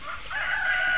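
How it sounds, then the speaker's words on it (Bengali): A Tiger-breed chicken lets out a loud, drawn-out, strained crow that holds and rises toward its end, very close and alone for about a second. "টাইগার মুরগি আপনারা নিতে পারবেন।"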